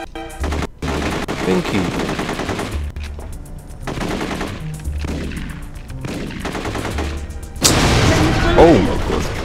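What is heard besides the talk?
gunfire in video game The Getaway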